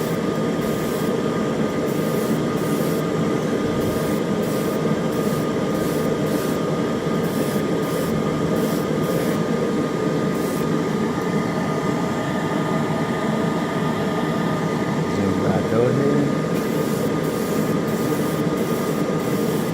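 Airbrush misting Stynylrez primer onto a model, giving a continuous hiss and compressor hum with faint rhythmic clicking above and a brief pitch shift near the end.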